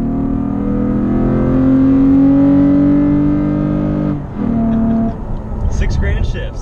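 A Toyota engine revs up to about six thousand rpm, its rising tone breaking off into a quick gear shift before climbing again, loud and close.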